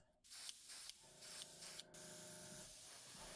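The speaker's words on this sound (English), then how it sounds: "I'll do a few coats with my clapped out China Tech airbrush" A worn, cheap China Tech airbrush sprays paint onto camera parts during a Minolta XG-M repair, producing close, steady hissing with a few brief breaks between passes and a faint tonal whine underneath.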